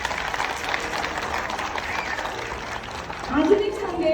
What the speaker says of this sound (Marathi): आणि या सगळ्या शिक्षकांसाठी आपण पालकांनी जोरदार टाळ्या वाजवल्या पाहिजे.